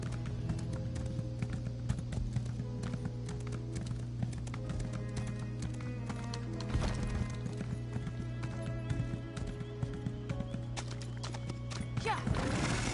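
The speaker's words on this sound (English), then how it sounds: "you pull your own horse out" A horse in The Elder Scrolls Online clip-clops along in a steady, moderately loud rhythm of hoofbeats over a low game music drone, with some talking partway through.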